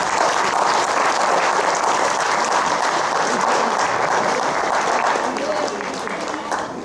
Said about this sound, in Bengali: চলুন সবাই মিলে একবার জোরে হাততালি দিই